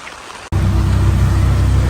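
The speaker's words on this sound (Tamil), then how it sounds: "முன்னுக்கு ரோட்டே தெரியாத அளவுக்கு பார்த்தீங்கன்னா மழை நல்லா பெய்து கொண்டு இருக்குது." Heavy cyclone rain in Jaffna, heard from inside a car, pours so hard the road ahead cannot be seen. A dense, steady roar starts abruptly after a brief cut-out and continues loud, with no talking.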